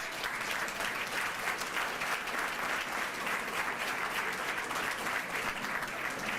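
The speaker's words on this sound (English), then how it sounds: "If we could give Karen a round of applause." A crowd at an awards celebration claps steadily, dense applause holding at an even level throughout without pause.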